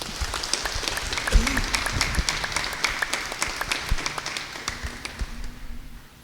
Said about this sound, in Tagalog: Isip timaan sa atong dakong pag-uyon, ato silang hatagan sa makusog nga palakpak.